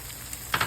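An egg sizzles in a greased frying pan, with a steady faint crackle and two brief louder spits near the end.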